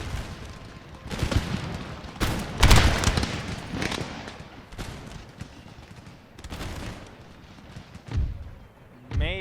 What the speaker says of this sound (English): these guys fire by rank